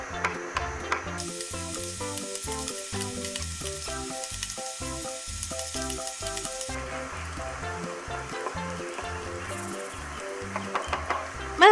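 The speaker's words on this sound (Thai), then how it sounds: "ใส่พริกแล้วก็กระเทียมที่เราสับไว้ลงไปผัดค่ะ" Chopped chili and garlic sizzle steadily in hot oil in a wok, a close, continuous frying crackle with music playing underneath.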